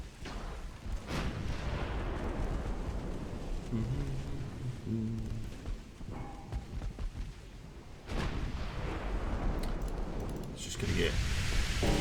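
Warship guns firing armour-piercing shells in a World War I–era naval game, heavy booming blasts and rumbling roars filling the scene, with voices talking over the din.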